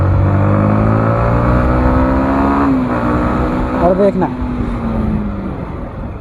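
A motorcycle engine revs high at speed, then its pitch drops steadily as the bike brakes hard with the clutch left engaged. Someone talks over the close, loud engine.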